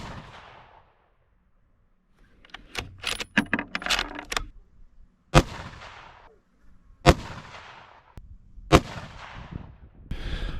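A 6.5 PRC rifle fitted with an EC Tuner muzzle brake fires while its zero is rechecked, giving three sharp, loud reports about two seconds apart, each followed by a short ringing decay, after some earlier clattering handling noise.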